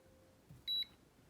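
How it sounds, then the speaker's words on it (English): A single short, high-pitched electronic beep from a 5-in-1 wall scanner stud finder with an LCD display as it centers on a wall stud, clear and close over faint background hiss. "As you can see, it lights up and it says center and an alarm goes off."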